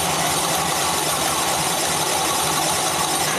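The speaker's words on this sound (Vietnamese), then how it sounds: "Rồi đề cái nổ dùng 8 giây tắt máy." A Honda Vision scooter with a fault where it stalls on throttle after an electric start, its engine running at a steady idle with a rough, constant mechanical drone and no voices.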